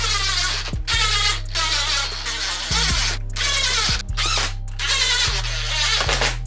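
A DeWalt cordless driver runs screws into a 2022 Subaru BRZ/Toyota GR86 interior trim panel, its motor whining loudly in repeated bursts with pitch changes and short gaps between screws.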